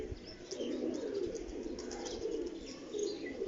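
Pigeons coo in a low, soft, continuous murmur at a rooftop loft in the evening, with faint chirps and occasional wing flutters, fairly quiet and distant with no talking.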